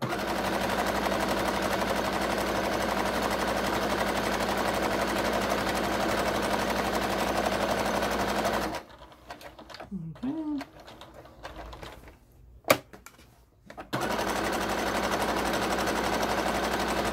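A sewing machine hums continuously while stitching a fabric cover for a machine, stops for several seconds with a few handling noises and a sharp click, then starts up again at the same steady pace.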